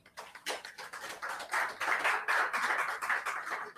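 An audience at an HR business partner certification launch claps to welcome a speaker. The applause is fairly quiet, a thin patter of claps, with no voices.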